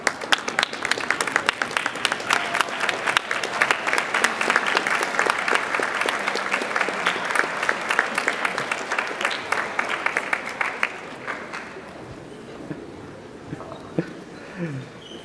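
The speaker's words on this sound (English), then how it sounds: "give your families a round of applause for all their guidance and support that they give you" Sustained applause from a large crowd of high school students for their families at an awards ceremony, filling a hall with dense clapping that gradually tapers off near the end.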